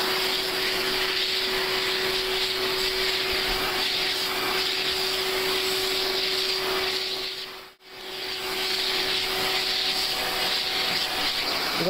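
A household vacuum cleaner runs loud and close with a steady whooshing hiss and a constant motor whine, briefly cutting out near the end before starting up again, with dogs nearby.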